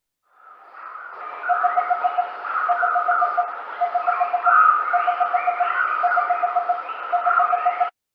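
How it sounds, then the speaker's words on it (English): A recorded small barbet call plays steadily, a run of rapid, evenly repeated popping notes in short series over a mid-pitched tonal hum, clear and fairly loud with no talk. "first I'm going to play the small barbet call."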